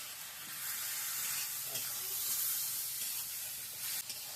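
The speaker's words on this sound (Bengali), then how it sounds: "এবার ধনে আর জিরে বাটাটা দিয়ে দেবো।" Coriander and cumin paste sizzling in a hot frying pan during home cooking, a steady hissing spray that holds for a few seconds with small crackles, close and fairly loud.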